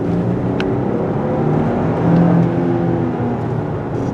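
A 2024 Lexus GX550 SUV with a V6 turbo engine drives along, giving a steady low engine drone and road whir heard from inside the cabin at moderate loudness.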